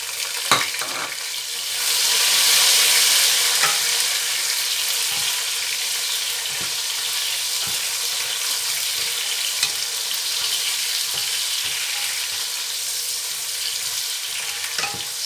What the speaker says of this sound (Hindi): ये देखें 2 मिनट भूनूंगी। तो यहाँ मैं जो टमाटर है ये डालेंगे